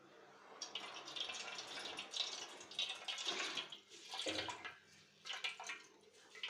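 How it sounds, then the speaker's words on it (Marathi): Cold water pours and splashes over chhena in a cloth while it is rinsed for rasgulla, a continuous soft running and dribbling that swells and fades in uneven bursts. "आता यात मी थोडं थंड पाणी टाकणार आहे थोडं थंड पाणी टाकून हे छान स्वच्छ धुवून"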